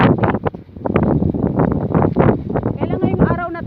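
Strong gusting wind blasts across the microphone on an open road, a loud rumbling roar under a person talking throughout.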